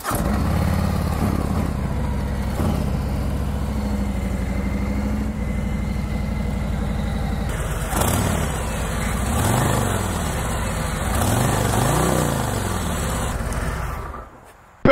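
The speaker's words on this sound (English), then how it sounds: "Let's fire this thing up. I'll show you guys what the exhaust sounds like" Harley-Davidson Road King 114 Special motorcycle exhaust starting up and idling, a steady loud low rumble that holds throughout and cuts off abruptly at the end, with no talk.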